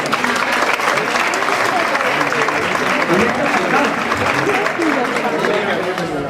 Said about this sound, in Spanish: 50 aplausos para él